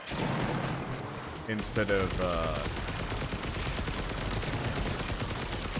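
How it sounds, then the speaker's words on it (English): Rapid bursts of flak weapon fire in Warframe, a dense rattling barrage that carries on steadily after a brief pause, with someone talking over it. "I wonder if it's flak, actually, that I'm firing."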